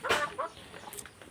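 Broiler chickens on a farm give a few soft clucks, one clearer call followed by fainter scattered ones, quiet and without speech.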